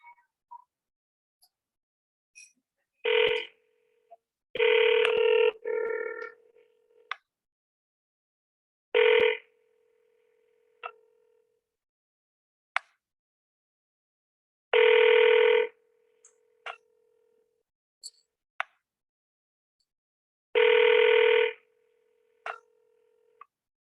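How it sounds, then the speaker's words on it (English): A telephone call rings out after dialing: a tone repeats in five evenly spaced rings a few seconds apart, clear and alone, with faint clicks between them and no voices. "Okay, dialing him now."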